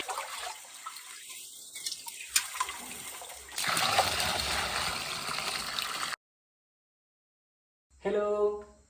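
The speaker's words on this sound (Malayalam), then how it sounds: "കപ്പിയും കയറൊക്കെ ഉപയോഗിച്ചിട്ട് കിണറ്റിൽ നിന്ന് വെള്ളം കോരി കുളിക്കുന്നത്" Water is drawn by pulley and rope from a well for bathing: a rising, swelling trickle and pour of water over several seconds, then a louder rushing splash, followed by silence and a brief burst of a voice.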